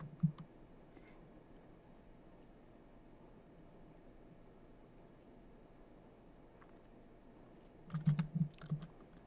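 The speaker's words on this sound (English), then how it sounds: "We're going to type ls and enter." Someone types a short command on a computer keyboard, a quiet brief keystroke at the start and a quick cluster of close clicks near the end, over low steady room hiss.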